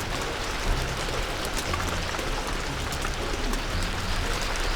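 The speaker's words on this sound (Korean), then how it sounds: "갑자기 비까지 내린다." Sudden rain pours down outdoors in a yard, a dense, steady hiss of drops striking surfaces nearby, loud and unbroken throughout.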